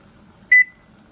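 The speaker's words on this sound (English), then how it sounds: "Timer." A kitchen timer gives one short, bright electronic beep while a pot heats toward boiling on the stove, then falls silent against a low, quiet room hum.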